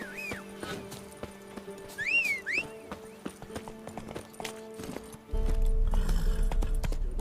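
Horse hooves clip-clopping in The Witcher 3 during a cavalry battle in a wood by a swamp, a steady close rhythm with a whinny and whistling calls over it, then a loud low rumble swelling near the end.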